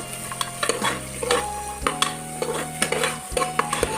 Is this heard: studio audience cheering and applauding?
no